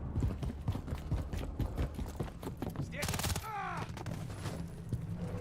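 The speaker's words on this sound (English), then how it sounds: "There's enemy fire." Rapid bursts of enemy gunfire in the Modern Warfare 3 campaign, a steady rattle of shots with a louder volley and whining effects midway, all under continuous in-game battle noise.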